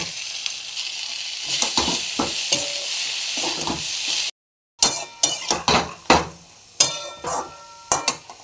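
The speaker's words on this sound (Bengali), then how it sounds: "এবার আমি এতে শাকগুলো দিয়ে দিলাম" Red amaranth greens hit a hot oiled pan seasoned with turmeric, salt and cumin powder. A loud, steady sizzle is broken by a brief drop-out, then continues with sharp clinks and scrapes of stirring.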